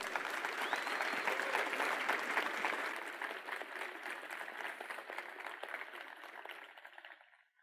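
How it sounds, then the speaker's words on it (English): An audience at a machine learning talk gives the speaker a big round of applause, dense clapping that holds strong for a few seconds, then thins and fades out to silence. "Please, a very big round of applause for Stefan Kanev."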